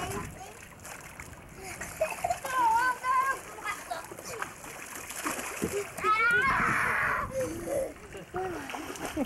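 Children splash in a warm bath, with water slapping and sloshing in bursts while children's voices chatter and call out over the splashing.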